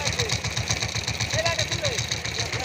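Power tiller engine stuck in a field and running with a rapid, knocking, rhythmic chug, loud and close, while people shout and talk over it.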